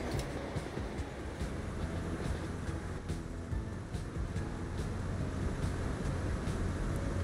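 An ICE high-speed train pulls into a station in the game Transport Fever 2, a steady, dense rail rumble with faint metallic ticks that holds at an even level throughout, with no voices.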